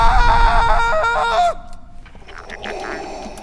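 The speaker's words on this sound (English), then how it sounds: "Huge scream." A huge scream from a Star Wars: The Force Unleashed cutscene rings out loud and harmonic for about a second and a half, then cuts off into quieter game sounds and rumble.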